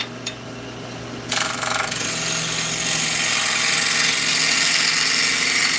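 A wood lathe turns a cherry bowl while a brand-new, freshly sharpened bowl gouge cuts it, a steady loud scraping hiss that starts abruptly after a quieter motor hum and keeps going without talk.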